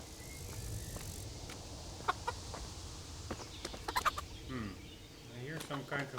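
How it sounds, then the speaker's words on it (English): Chickens cluck in short scattered bursts in the video game Kingdom Come Deliverance, close by over a quiet outdoor village ambience. "Let's say hello to the chickens."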